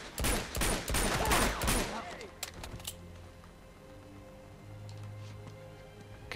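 Gunfire in Uncharted 2: Among Thieves, with a dense, loud volley of rapid shots during the first two seconds, then a few scattered single cracks over quieter game ambience, and a voice talking through it.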